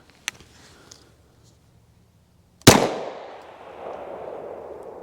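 A single sharp 9mm gunshot of a Browning X-Point round fired through a chronograph outdoors, loud and close, with a brief echo tailing off after a quiet lead-in of faint clicks.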